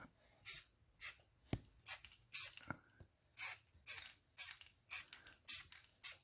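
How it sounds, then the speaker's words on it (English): Short bursts of an aerosol spray paint can coating an engine block, about a dozen quick hisses in a loose rhythm, with faint clinks and handling noises between them. "I'll just spray this lightly on this first coat."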